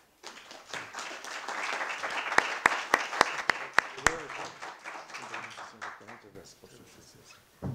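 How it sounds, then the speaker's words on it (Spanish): A lecture-hall audience applauds Francisco José Paoli, a dense, steady patter of many hands with a few sharp, loud individual claps standing out, fading toward the end and cut off abruptly. "para quien pido un aplauso nuevamente"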